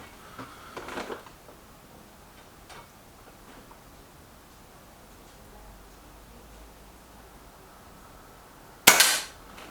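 Air rifle shot from a Reximex Myth or Kral NP02 during a target comparison, a single sharp crack near the end after quiet room tone with a faint earlier click.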